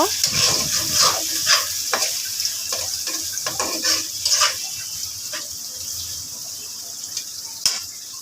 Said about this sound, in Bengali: পেঁয়াজটা হালকা ভেজে নিল